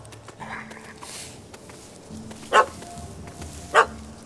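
Two sharp, loud dog barks from The Witcher 3, a puppy barking at a cat up a tree, ring out about a second apart over a low game ambience with faint voices.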